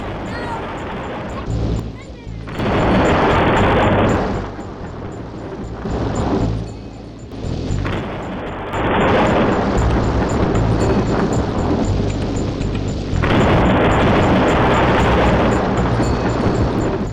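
Lightning towers strike enemies in the Zombie Tower tower-defense game on iPad, making loud, booming thunder-like crashes in several long bursts separated by short lulls.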